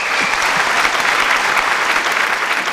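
An audience at a Tamil debate event in Tiruchirappalli applauds, a dense, even wash of many hands clapping throughout, fairly loud and sustained.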